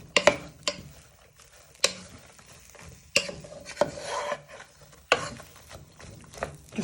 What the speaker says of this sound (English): you want to give these a good fry